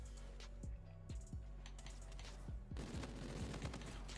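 Gunfire from the OSA DE-ATOMIZER in the Infinite Warfare video game, a series of punchy low shots spaced irregularly, then a faster rattling burst near the end, fairly quiet in the mix.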